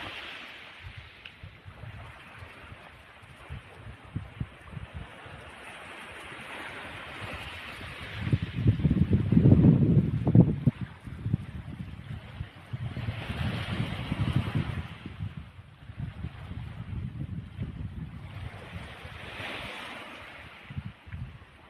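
Calm sea waves wash in slow, soft swells along the shore on a sunny frosty day, rising and falling gently over a steady wind-buffeted background.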